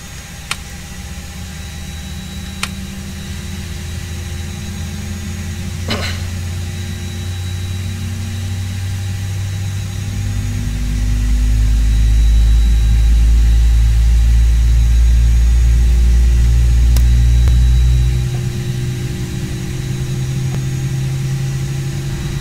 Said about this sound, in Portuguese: Starting engine motor 1.